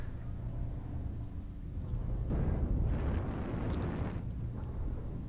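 A mech being destroyed by friendly fire in a mech combat video game, heard as a low rumbling blast that swells in the middle and fades over steady background noise, with no talking.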